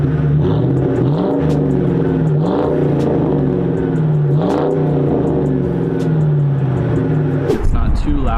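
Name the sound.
Mustang GT with SLP Loudmouth catback exhaust revving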